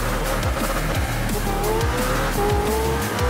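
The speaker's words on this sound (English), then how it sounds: "Let's go and get behind the wheel of this beautiful McLaren Senna and get into this beautiful game." A McLaren Senna roars through Forza Horizon 4, the engine droning loud and steady while the tires squeal repeatedly through turns, close up and continuous.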